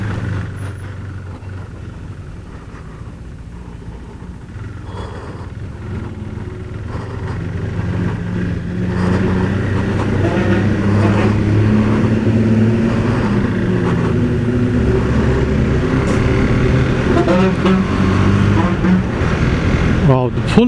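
Engine drone and road rumble from a motorcycle on a test ride, either a Royal Enfield Interceptor 650 or a KTM 390 Duke, steady and rising in pitch as it speeds up, heard under continuous talk.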